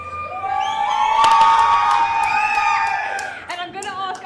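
A crowd at a gaming tournament cheers, whoops and shouts in a loud, sustained burst of mixed voices that dips briefly before rising again.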